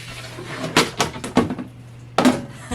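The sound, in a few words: mixing brown sugar into plum fruit in a dish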